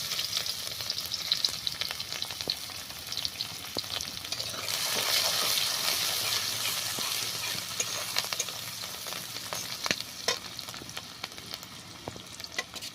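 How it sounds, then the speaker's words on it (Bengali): Chopped onion fries in hot oil in a kadai, a soft, continuous sizzle that swells for a few seconds midway, with scattered stirring scrapes and no voices. "তেলটা গরম হয়ে গেছে ওই তেলের মধ্যে দিয়ে দিচ্ছি পেঁয়াজ কুচানো"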